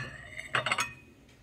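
Small ceramic bowls clink together as they are handled, a quick cluster of three or four close, faint chinks followed by a softer tap.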